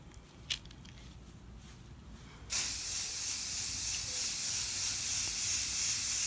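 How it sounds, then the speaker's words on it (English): Spray paint hissing onto a tumbler cup outdoors from about a foot away, a steady close, loud spray that starts abruptly and runs on without a break. "I'm back probably about at least a foot from my cup, and just start spraying lightly"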